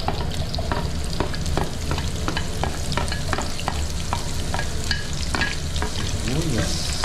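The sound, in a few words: onions frying in a pan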